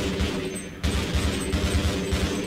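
Rapid bursts of Half-Life gunfire rattle in quick succession, a dense, continuous volley with a brief gap partway through.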